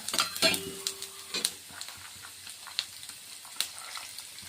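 Cumin seeds dropped into a hot pan give a quiet, light sizzle, with a few scattered clinks and scrapes from a spoon and pan near the start, then soft, sparse crackles.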